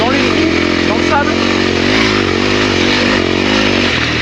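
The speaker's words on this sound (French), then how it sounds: "Et la moto file." A 2022 Honda CRF 300L motorcycle ridden fast at about 80 km/h over sandy, rutted ground, its engine a loud, constant close drone with shifting pitch and rattling, wind-buffeted roar for the whole stretch.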